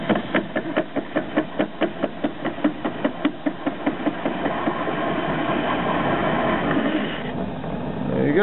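A Gingery lathe cutting metal at 300 RPM with cutting fluid, giving a steady series of regular knocking clicks, close and fairly loud, that turns into a continuous grinding whir partway through.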